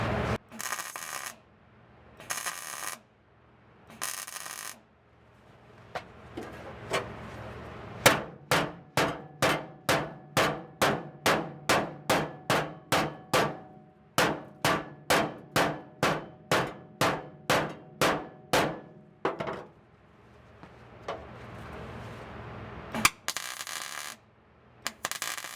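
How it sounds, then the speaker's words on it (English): Steel floor pan being hammered into a Jeep body: a long, steady run of sharp, loud metallic blows at an even rhythm, with a few scraping or shuffling bursts before and after. "Once you get it tacked down, then you can hammer down the rest and continue along."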